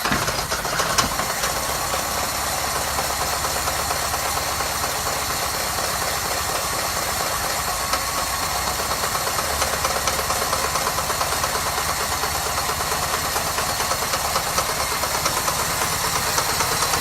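The engine of a 1904 Ford Model B runs steadily and loudly at close range, with a rapid, even knocking idle throughout.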